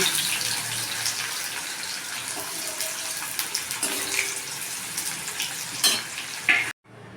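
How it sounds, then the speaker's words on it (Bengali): Sliced onions fry in oil in a separate wok for a birista garnish, a steady bright sizzle with occasional stirring scrapes that ends abruptly. "অন্য একটা কড়াইতে একটু তেল দিয়ে আমি একটু বেরেস্তা ভেজে নিচ্ছি গার্নিশিংয়ের জন্য"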